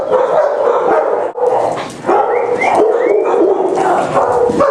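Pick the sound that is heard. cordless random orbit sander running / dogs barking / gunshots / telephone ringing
dogs barking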